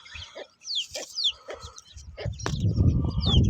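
A very large rooster kept for sale, heard among farmyard birds with several short crowing and clucking calls at close range, then a louder mixed rustle and bird noise toward the end.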